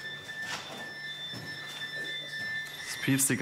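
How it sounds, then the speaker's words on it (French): Faint, steady high-pitched electronic beeps and tones from dosimeters and smartphones run through the background, with quiet voices and ambient murmur around them. "le concert ininterrompu des bips des dosimètres et des smartphones"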